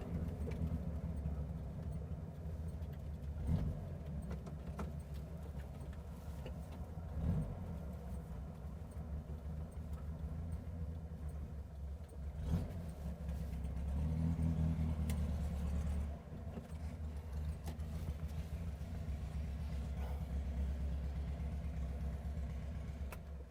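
A 1960 Porsche 356 Abarth tribute's engine hums and drones steadily from inside the cabin on the road, swelling with brief revs and gear changes over a constant road rumble.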